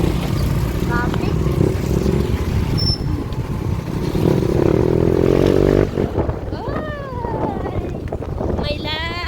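Road traffic with cars and motorcycles passing close by, a steady engine rumble throughout, with louder revving near the middle and a voice talking over it toward the end.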